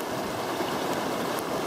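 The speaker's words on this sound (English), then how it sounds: "It might be a little hard to hear me because of the rapids that are right at my feet." River rapids rushing over rocks, recorded right at the water's edge: a dense, steady roar of flowing water, loud and unbroken, with no voices.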